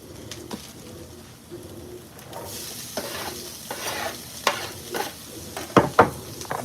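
Onions frying in a pan for cheesesteak, a soft steady sizzle with stirring scrapes that grow louder, ending in a few sharp clanks of the utensil against the pan, with bird cooing faintly in the background.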